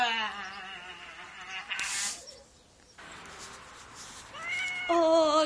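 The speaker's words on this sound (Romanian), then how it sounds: "am găsit o pisicuță chiar drăguță" A small kitten meows repeatedly and close by, high wavering cries that pause briefly in the middle before returning louder and sharper at the end.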